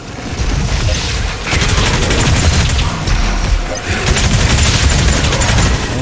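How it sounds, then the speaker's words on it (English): Micro missiles firing in the video game DOOM Eternal, a loud, sustained barrage of rapid rocket bursts and explosions layered together, with combat noise continuing throughout. "Once you get the mastery for the micro missiles, it's that they are unending."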